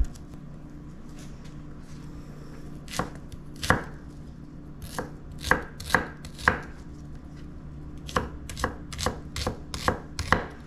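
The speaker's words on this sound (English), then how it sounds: "And then you just chop it." A knife chops through food on a cutting board for a breakfast casserole, with irregular sharp thuds, first sparse, then quicker bursts of several strokes in a row, close and clear with no talking.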